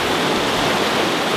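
Steady broadband rush of water pouring through a gold sluice box, loud and continuous with no pauses and no voices.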